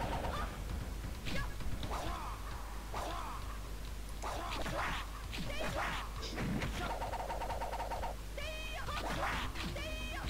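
Crow attack sounds from the Neo Geo fighting game Ninja Master's, with repeated squawking cries and scratchy hits over continuous game music and effects, dense and steady throughout.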